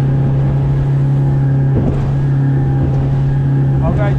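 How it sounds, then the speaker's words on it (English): A Makocraft 445 Commander Pro boat motors through wash, its steady engine drone holding close and loud throughout, with brief splashing thumps as the hull crosses the chop and a voice talking over it. "Come through a bit of wash here."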